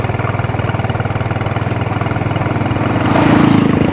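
A parked motorbike's engine idles close by with a steady, rapid low throb that grows slightly louder toward the end.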